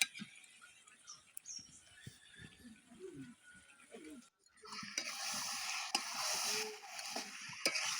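Boiled jujube pickle is stirred with a metal spatula in a pan, first as soft scraping and clinks, then, after a brief pause, as a fuller steady sizzle with occasional spatula taps.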